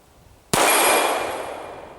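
A Kimber 1911 Compact Stainless II .45 ACP pistol fires Hornady ammunition at a 6-inch steel plate, one loud sharp crack with a ringing clang that decays slowly, alone after a quiet lead-in.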